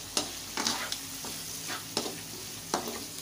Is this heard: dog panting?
no